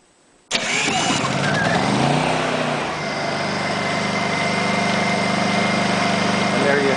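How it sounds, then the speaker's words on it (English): A Honda EU2000i inverter generator fitted with electric start fires up abruptly, then settles into a steady, close running hum that holds throughout. "And there you have it, the generator is now running."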